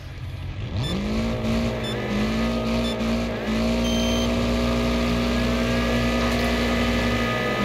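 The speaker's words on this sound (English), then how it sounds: "We're at Firwood Moto Center and we're in the Hammerhead. We're gonna give it a ride in a folk race." The Hammerhead car in a Wreckfest folk race at Firwood Motocenter drones loudly and continuously, its engine note climbing through gear changes with racing cars around it, and no talk over it.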